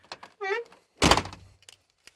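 A truck door hinge gives a short squealing creak, then the door shuts with a heavy, close thunk and a brief rattling decay.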